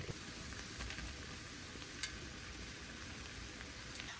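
Broccoli dropped into a hot pan with cooked shrimp sizzles in a steady, dense crackle throughout, with a few brief louder pops, and no talking.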